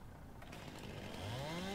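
A chainsaw cuts among felled trees on a farm job, its engine revving steadily upward in pitch and growing louder across the short stretch, close by with no talking.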